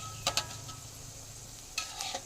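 Ash gourd fritters coated in rice flour fry on low heat, giving a faint, steady sizzle broken by a couple of quick utensil clinks near the start and end.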